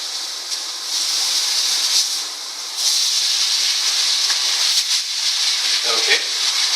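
Jennie-O lean turkey bacon sizzles and hisses steadily in a hot pan, a continuous bright frying crackle with occasional pops, close and fairly loud.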